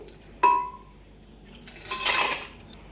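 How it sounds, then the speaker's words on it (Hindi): Ice cubes clatter into a hard blender jug with a sharp clink, followed a moment later by a second rattling tumble of cubes. "फर्स्ट ऑफ ऑल हम अपने ब्लेंडर जग में आइस क्यूब्स ऐड करेंगे।"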